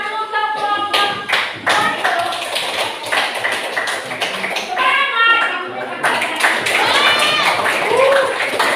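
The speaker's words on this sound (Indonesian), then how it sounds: "tepuk tangan dulu untuk kelompok" A class of students claps for a student group, with scattered irregular hand claps and taps mixed with children's voices and chatter in a lively classroom.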